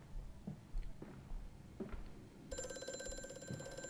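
In the horror game Amnesia: A Machine for Pigs, a telephone starts ringing partway through with a steady, buzzy electronic tone over quiet footsteps and faint knocks in a dim room.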